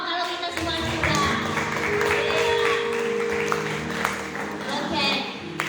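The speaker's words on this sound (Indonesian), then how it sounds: "Tepuk tangan dong kalau kita semua sudah." An audience at a church youth gathering claps steadily in a dense, continuous patter, with a voice and some tonal sound carrying over the clapping throughout.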